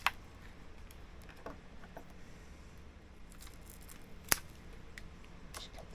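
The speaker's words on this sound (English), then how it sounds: "I'm going to cut the end of this root" A single crisp snip from cutting the end of a root on a large Ficus benjamina bonsai, sharp and close, standing out against a quiet background with a fainter snip near the start.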